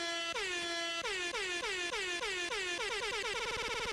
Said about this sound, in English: Insert air horn?